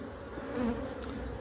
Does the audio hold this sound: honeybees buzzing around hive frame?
yes